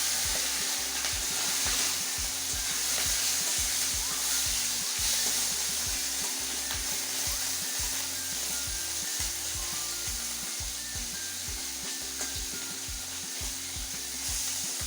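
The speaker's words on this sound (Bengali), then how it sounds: "মাছগুলো আমি একটু কড়া করে ভেজে নেবো, লাল করে।" Fish frying in oil in a pan, a steady close sizzle running throughout with rapid, regular scraping and rubbing strokes layered on top, no talking.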